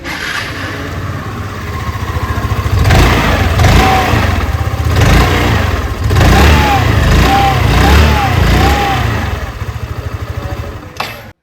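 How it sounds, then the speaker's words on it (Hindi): A 2026 Hero Xoom 110 ZX variant scooter's exhaust runs up close and loud, a steady idle lifted by several throttle blips and revs before it cuts off sharply at the end. "आइए अभी सुन लेते हैं इस स्कूटर की एग्जॉस्ट नोट।"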